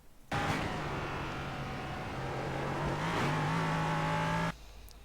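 An LMP3 race car engine in iRacing holds hard on the rev limiter at Sebring, a loud, steady buzzing tone that starts abruptly and cuts off after about four seconds, with no talking.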